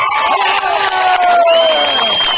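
An outdoor protest crowd roars with loud cheering, whoops and shouting, a dense continuous wall of voices close by.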